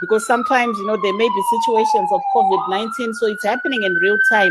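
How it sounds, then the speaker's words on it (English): Ambulance and police sirens wail outside on the streets of Washington, DC, a continuous rising and falling electronic tone running the whole time beneath close, loud speech. "We have a lot of ambulances and police going around"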